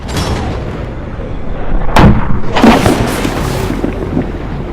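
A shaken bottle of cream soda bursts apart as an ax chops into it, giving a sudden loud bang followed by a second burst of spray and splatter, with a rumbling background throughout.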